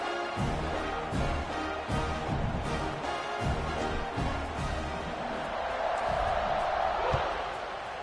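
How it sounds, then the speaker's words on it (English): A stadium crowd in a college football video game with Oregon playing at home, a steady dense roar of cheering that swells slightly near the end, under an announcer's talk. "They're set to kick it off, and this crowd now ready to get behind them."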